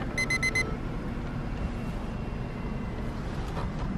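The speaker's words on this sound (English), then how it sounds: "The timer's up." A timer alarm goes off with a short run of rapid, high electronic beeps at the start, then stops, leaving a background rumble of ongoing noise.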